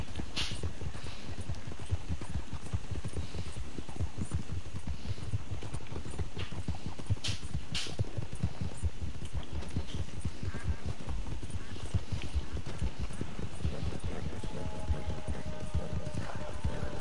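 Horse hooves clip-clop in steady rapid rhythm throughout in Red Dead Redemption 2, close and clear, with occasional game sounds and a whinny-like cue near the end.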